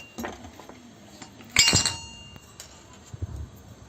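A utensil clinks against a pan while garlic is stirred in oil for wet hamburgers: a few light taps, then one sharp ringing clink in the middle, all close and otherwise quiet.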